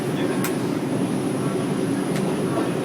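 A New York City subway train runs with a constant rumbling roar and rattle from inside the car, with a couple of brief metallic squeaks cutting through the steady drone.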